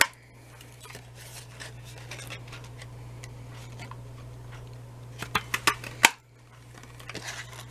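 A handheld craft paper punch cutting flower shapes from paper, a few sharp clicks and snaps in quick succession over a constant low electrical hum, with faint rustling around them.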